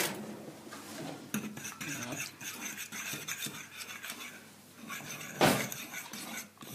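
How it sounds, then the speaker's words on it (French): Softened gelatin is mixed in a bowl with a small fork for a strawberry charlotte, giving close, steady scraping and clinking of metal against the bowl, with one louder clink near the end. "Et on mélange avec une petite fourchette."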